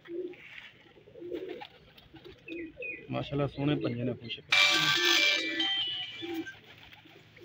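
Pigeons coo on a rooftop in soft, rolling calls close by, heard under a voice. Partway through, a burst of brighter chirping bird calls joins in.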